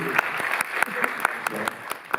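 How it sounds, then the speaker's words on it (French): Audience applause at a cinematheque screening presentation in Paris, a sparse, moderately close clapping with distinct individual hand claps in a fairly regular rhythm, with voices talking underneath. "Vous pouvez l'applaudir."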